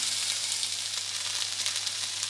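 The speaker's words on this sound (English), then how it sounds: "so they're sizzling away and they are giving off a slightly bacony smell actually" Strips of vegan meat-free bacon fry in a pan with a steady, close crackling sizzle full of dense hiss and small pops, alone and without talk.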